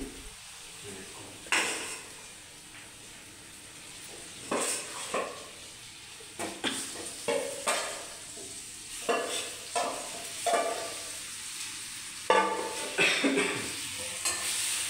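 Marinated chicken pieces stirred in a pan with onions during a chicken fry, a steady sizzle under repeated scraping and clinking strokes of a spoon against the pan, close up and irregular.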